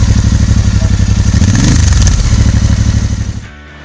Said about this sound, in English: The beautiful exhaust note, which unlike the legendary thump, is a sweet rumble